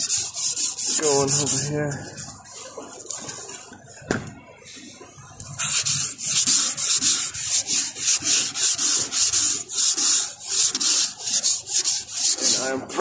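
Sanding scrubs across the repaired keel of a 24 ft Yamaha boat hull being prepped for gel coat, a close, rhythmic rasping that grows dense and steady after a brief spoken remark.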